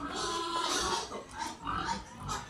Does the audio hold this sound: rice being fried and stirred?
no